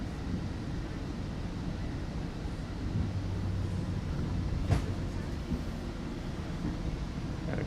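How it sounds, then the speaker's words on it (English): A GO commuter train rolls past in the opposite direction near Toronto, a steady, moderately loud rumble with faint tonal squeals and a brief sharp clank midway. "GO train rolling by the other way."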